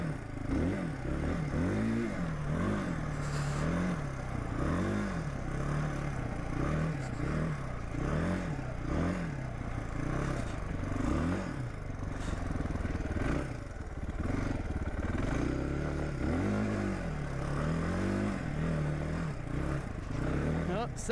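A Suzuki DR350 dirt bike engine runs on a snowy, slippery surface, its revs rising and falling in a steady repeating rhythm with clattering and scraping mixed in, close and continuous throughout.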